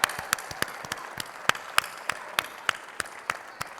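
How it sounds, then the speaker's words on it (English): Sparse, rhythmic clapping at a charity gala, with a dozen or so distinct claps spaced evenly over a soft, steady background of light applause. "big round of applause to Ann and Bob Pillen"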